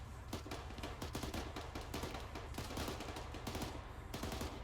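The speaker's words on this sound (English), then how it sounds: "Don't be afraid to hold down that trigger, Mo." Sustained machine gun fire during military platoon training with the 15th MEU, rapid dense bursts of shots rattling continuously and loudly throughout, with no pauses between volleys.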